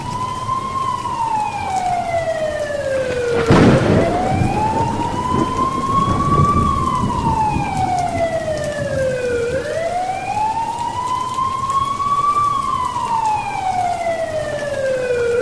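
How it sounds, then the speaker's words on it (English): Police car siren wailing steadily in slow rising and falling sweeps, loud and close, with a brief burst of noise partway through and no talking. "I think I hear the police car"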